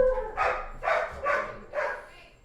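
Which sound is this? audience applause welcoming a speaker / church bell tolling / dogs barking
dogs barking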